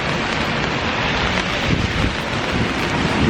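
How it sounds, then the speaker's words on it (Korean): Steady rain falls outdoors on a city street at the start of a walk home, a dense, even hiss with a low rumble of wind or traffic underneath, constant and fairly loud with no pauses. "비가 와요."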